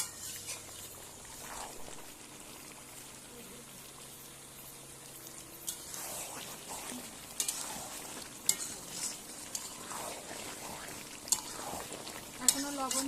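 Chicken sautéing in a covered pan with salt and a splash of water, a low steady sizzle with occasional stirring scrapes and lid clinks, moderately faint.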